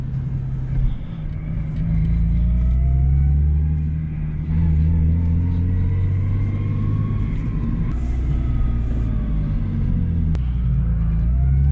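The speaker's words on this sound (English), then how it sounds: "this transmission's really noisy. Every gear except fourth gear are pretty noisy." A Lexus IS 300 with a manual transmission gives off whining gear noise over a steady engine and road rumble while driving, and faint rising tones shift as the gears change.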